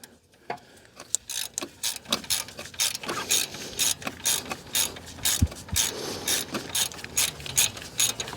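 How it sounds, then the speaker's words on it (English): A hand ratchet with a 12 mm shallow well socket is worked during a Honda clutch slave cylinder job. It gives repeated close, crisp bursts of ratcheting clicks in an uneven back-and-forth rhythm, with no voices. "I'm using my 12 millimeter shallow well socket and my ratchet"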